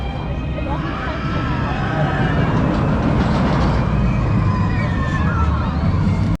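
The Python roller coaster train at Efteling rumbles steadily along its track with a continuous low roar and rattling, fairly close, with faint voices mixed in.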